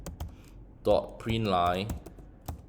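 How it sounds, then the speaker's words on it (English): Computer keyboard clatters as Arduino code is typed for an SSTuino II microcontroller, with brisk scattered key clicks at the start and end around a stretch of close speech. "you are typing in the function"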